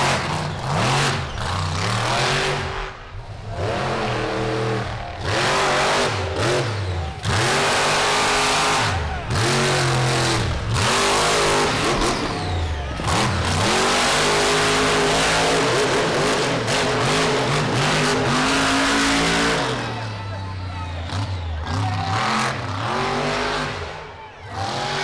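A monster truck engine roars and revs hard during a freestyle run at a 2019 monster truck show in Miami, Oklahoma, loud and continuous throughout with rising and falling throttle bursts and crowd-level arena noise.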